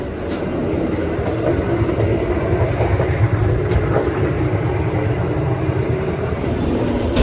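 A Gajayana Eksekutif passenger train runs on the rails with a steady loud rumble and faint rhythmic clatter, heard from inside the carriage with no talking.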